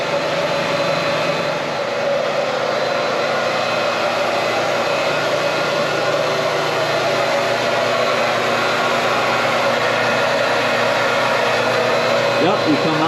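A reverse osmosis machine feeding a maple syrup evaporator's open pan runs with a constant, loud, broadband whoosh and hum, unchanging throughout, with no voices.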